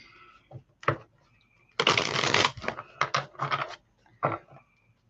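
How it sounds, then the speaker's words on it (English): Tarot cards are shuffled by hand in a few quick riffling bursts, close and crisp, separated by short pauses. "I don't like that shuffle."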